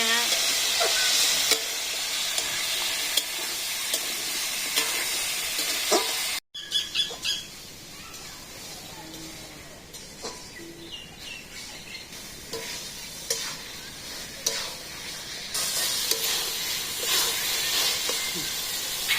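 A village cook stirs and fries a mixed vegetable dish with cumin paste in a pan, giving a continuous loud sizzle and hiss with scraping stirs and a brief break partway through.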